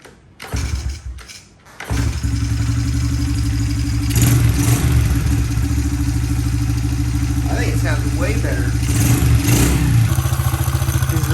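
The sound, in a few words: Honda XR70 dirt bike engine running with flywheel noise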